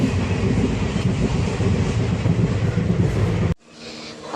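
A train running on the Lumding route between Diphu and Guwahati gives a steady, close rumble of wheels and carriage noise, which drops off abruptly near the end before rising again faintly.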